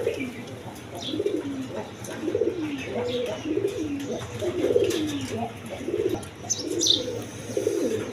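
Pigeons at a pigeon sale of local and foreign colored breeds coo repeatedly in soft, low, rhythmic phrases, with faint chirps and steady background murmur throughout.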